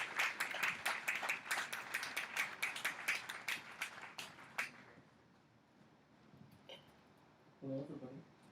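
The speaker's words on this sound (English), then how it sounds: "Welcome them with a round of applause." Audience applause at a graduation ceremony, dense clapping for about four seconds that thins out and fades into room murmur, with a brief voice near the end.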